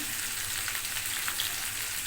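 Dal sizzles and crackles in a hot wok over high heat, a soft, steady frying hiss with small pops, fairly quiet and with no one talking.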